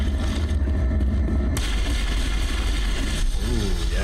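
Gunfire from Mass Effect comes through a headset in a continuous loud, bass-heavy barrage of booming shots and rumble, with a brief descending whine near the end and no talking.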